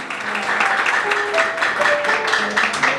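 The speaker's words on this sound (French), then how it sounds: "Applaudissez chaudement pour la gloire de Dieu." Wedding guests clap together at a Haitian wedding celebration, a dense, steady patter of many hands that runs the whole time at a fairly loud level, with faint tonal sounds drifting underneath.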